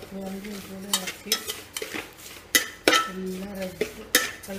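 A spoon stirs a mixture in a pan in repeated scraping strokes, with metallic clinks against the pan and a light sizzle underneath, close and fairly loud.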